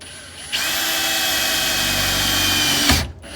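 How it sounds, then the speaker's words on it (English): A power drill whirs loudly and steadily for a couple of seconds, starting abruptly and cutting off near the end, close to the listener. "I'm going with the drill bit, small size, and then go up to the bigger size drill bit"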